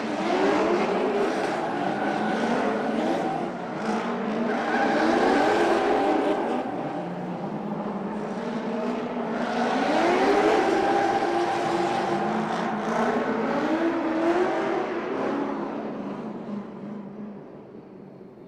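Drift cars roll onto the track at the Lake Erie Speedway drift competition, loud engines revving and droning in repeated swells as they move past, with no talk.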